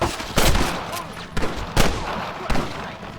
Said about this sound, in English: Damn fine shooting, boys.